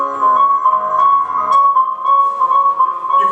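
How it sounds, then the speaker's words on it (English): Piano recording played through a speaker, miked from behind, with a strong, droning speaker resonance excited by some notes that rings over the melody, loud and steady with no talking. "All I did was put the microphone behind the speaker and play a piano recording."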